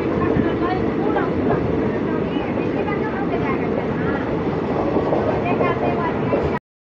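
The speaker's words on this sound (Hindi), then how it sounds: "ये शायद चेन्नई बेंगलुरु वाली ट्रेन है" A Chennai–Bangalore passenger train rumbles past close by, a loud continuous roar of wheels and carriages that holds steady before cutting off abruptly at the end.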